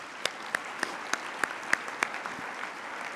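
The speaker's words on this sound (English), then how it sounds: "let's give them a round of applause" Sparse applause at a 2017 World Citizen event, with a few sharp, evenly spaced claps standing out over a soft background patter of other hands, moderately loud and steady for a few seconds.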